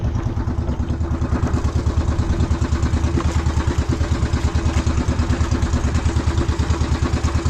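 A boat engine idles close by with a fast, steady, rhythmic chugging pulse that holds loud and even from start to finish.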